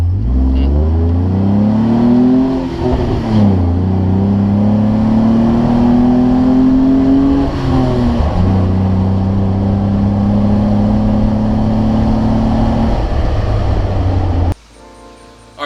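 A Jeep Wrangler JK on 40-inch tires with a throttle controller accelerates from 0 to 60, its engine droning loud and steady with rising tones, a brief dip around a gear change, then a sudden cutoff near the end.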